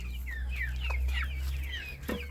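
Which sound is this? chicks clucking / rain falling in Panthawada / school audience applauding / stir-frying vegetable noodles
chicks clucking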